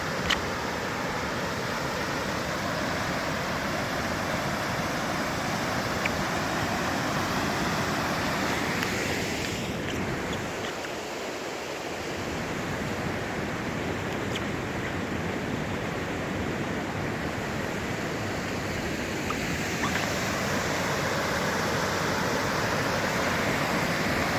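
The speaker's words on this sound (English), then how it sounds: "Whoa, what a fantastic waterfall." Waterfall in the Abel Tasman wilderness of New Zealand, a steady, loud broadband roar of falling water that fills the whole stretch without a break, heard close by and alone with no voices.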